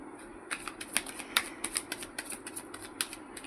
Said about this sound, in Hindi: अब हम आपके थोड़े और टैरो कार्ड्स निकालते हैं।